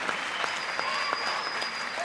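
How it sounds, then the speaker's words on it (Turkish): Steady applause from a concert crowd for a singer, dense continuous clapping filling the whole stretch at an even level, with no voices standing out. "bir kez daha alkışlıyoruz"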